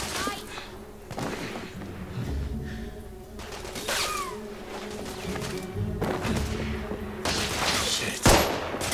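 Scattered gunshots in a third-person Victorian shooter, The Order: 1886, with sporadic cracks and short bursts at mid distance, one sharp louder shot near the end, mixed with game sound and speech.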